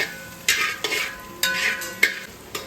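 Vegetable pulao with crushed ginger, garlic and green chilli being stirred in a hot pan, a few scraping strokes of the spoon over a soft steady sizzle.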